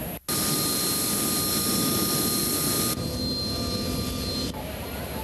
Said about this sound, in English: This particular Harrier that's taxiing out to the line now is one of the early models